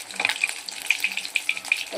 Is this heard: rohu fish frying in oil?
yes